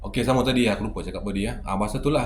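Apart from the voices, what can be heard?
No everyday noise stands out behind the speech.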